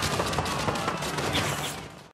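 Rifle gunfire in a ninja action film: a dense, loud burst of rapid overlapping shots lasting about two seconds before cutting off abruptly.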